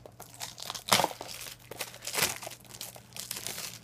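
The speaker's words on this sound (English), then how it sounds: "So I will unwrap it." Crinkly plastic wrapping being torn and crumpled off a Game of Thrones mystery mini figure package, close and busy, with sharp crunching bursts and steady rustling throughout.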